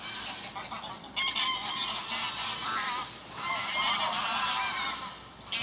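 Geese honking repeatedly near boats moored and rafted together on a waterway in winter, a loud, continuous overlapping chorus of harsh calls with bursts swelling and fading, no speech over it.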